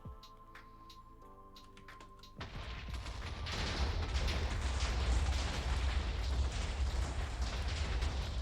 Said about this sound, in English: You have to wait for the 3rd explosion before you go